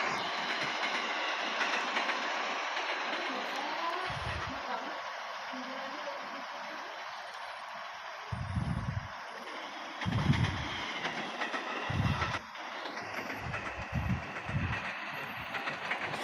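KRL commuter line train running toward Tambun, a steady rumble and broadband hiss throughout with low thumps near 8–15 seconds, under a talking voice.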